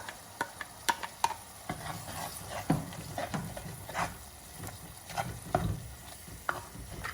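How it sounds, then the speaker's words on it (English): Aromatics for Goan pomfret caldine sauté in a pan, a soft steady sizzle broken by scattered ticks and scrapes of stirring, moderately close, with no one talking. "we're just going to allow it to saute for at least 4 to 5 minutes till the flavors release and become sharp and pronounced"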